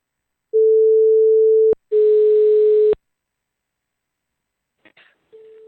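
Telephone tones on a call being redialed: a steady single-pitch tone for about a second, a brief break, then a buzzier tone of similar length, silence, and a faint short burst near the end.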